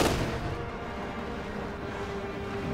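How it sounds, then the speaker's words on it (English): Main cannon shot and a chain of S-Mines exploding in Company of Heroes 2, a dense, steady rumble of battlefield blasts and gunfire with a sharp boom at the start. "just one shot from the main cannon kills a bunch of conscripts as the S-Mines go off like dominoes falling"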